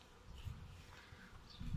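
Honey bees at a hive, some returning with pollen, hum in a close, steady low drone with a few louder buzzing passes, no voices.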